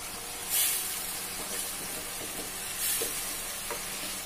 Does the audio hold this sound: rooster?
no